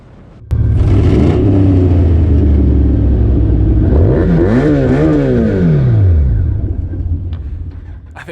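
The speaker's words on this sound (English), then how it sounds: "I think the bike was just cold, so wasn't too happy to rev" A cold motorcycle engine revs hard with a deep rumble and rising, falling pitch sweeps, then sputters and fades as the bike stalls out; close, loud, with no talk.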